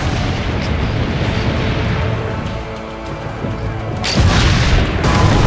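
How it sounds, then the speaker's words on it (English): A cannon fires in the video game Assassin's Creed Brotherhood, giving deep, loud booming blasts over a continuous rumbling battle din that swells sharply again near the end. "Load the cannon."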